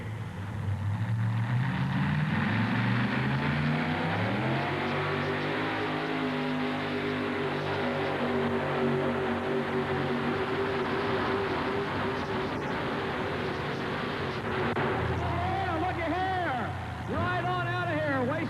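A Chevy S10 pull truck nicknamed Tough Cookie roars steadily down a dirt sled-pull track, its engine note climbing and holding loud and close before winding down at the end, with an announcer talking over it.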